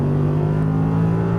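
Audi R8 V10 engine pulling hard under throttle on a racing circuit, a loud, steady, close-up drone with strong harmonic tone, sustained without talk.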